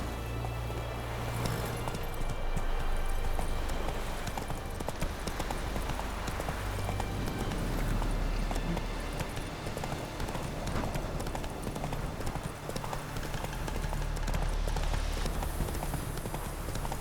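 Horse hooves clip-clopping at a steady, quick rhythm in The Witcher 3 video game, continuous and fairly close beneath soft ambient outdoor noise and faint background texture.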